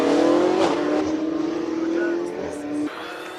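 McLaren race car accelerating up a hill climb course at the Speed Classic in Cape Town, a loud sustained engine roar with rising pitch and a gear change near the end, under an announcer's commentary.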